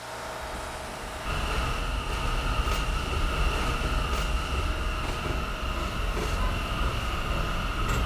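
A B and D line subway shuttle train, 39th Street bound, rolling through the tunnel after a quieter start, with a steady loud rumble, rattling wheels and a sustained high whine, no voices.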